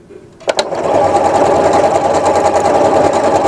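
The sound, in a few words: sewing machine stitching little star pattern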